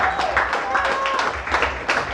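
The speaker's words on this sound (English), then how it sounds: "One more round of applause for you guys" A comedy-show audience at The Bend Liquor Lounge breaks into a dense, sustained round of applause with some whoops mixed in, filling the room steadily throughout.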